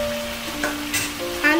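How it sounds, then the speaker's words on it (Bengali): Cauliflower florets and fried potatoes stirred into a masala in a pan for a Bengali fish curry, giving a soft, steady sizzle with a few scraping strokes of the spoon, close and moderately loud. "খুব ভালোভাবে নেড়ে চেড়ে একটু কষিয়ে নিতে হবে, এবং দিয়ে দেব ভেজে রাখা আলুগুলো।"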